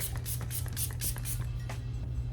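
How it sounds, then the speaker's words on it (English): A series of soft, airy hissing bursts repeating at a quick, uneven rhythm, as a dewy-finish makeup setting spray is pumped several times up close. "I think I'll use a dewy finish setting spray today."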